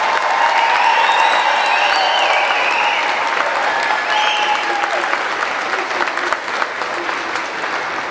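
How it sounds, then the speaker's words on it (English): Sustained applause from a large audience at a high school graduation ceremony, dense and steady throughout with crowd noise, fading slightly toward the end. "let's give them their first big round of applause tonight"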